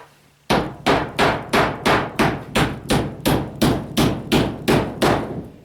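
Hammer drives nails into the bottom lip of a greenhouse wall, about a dozen sharp, evenly spaced blows, loud and close, with no voices.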